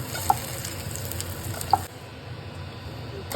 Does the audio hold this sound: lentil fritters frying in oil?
yes